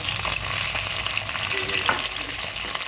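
Potatoes sizzle in hot oil that has been tempered with cumin and black cumin, alongside tomatoes and other vegetables, giving a steady close crackle with a few stirring scrapes and no talk.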